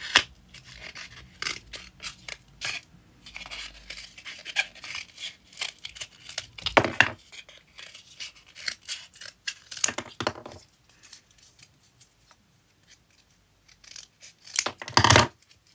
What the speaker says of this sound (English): Cut a piece around this size off of it.